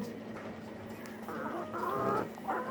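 Layer hens clucking in a backyard coop near a reused window grille, a steady low chatter of several birds that swells into louder, overlapping squawks toward the end.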